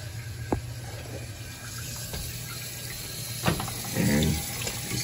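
Water runs steadily into a toilet tank with a low, even hiss and trickle, broken by a few faint clunks and a brief murmur nearby.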